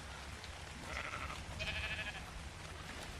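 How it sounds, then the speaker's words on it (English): Sheep in the video game ARK Survival Ascended bleat in two short, fairly faint calls over a steady background hum, with no talking. "oh, look at the sheep."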